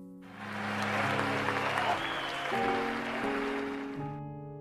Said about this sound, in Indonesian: Robin pun disambut dengan tepukan tangan meriah.